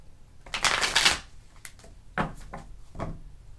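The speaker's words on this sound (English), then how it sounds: "Do a shuffle." Tarot cards riffle in a quick, crisp burst up close, followed by a few soft slaps and taps as the deck is squared and set down.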